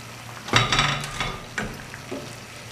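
Aloo-stuffed bread pakora frying in hot oil gives a soft, steady sizzle, with a few brief louder clinks and stirring bursts near the start and middle, close by and with no voices.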